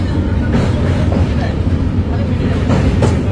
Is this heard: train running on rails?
yes